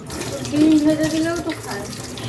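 Tap water runs steadily in a home kitchen while something is washed, with a voice briefly heard over the flow.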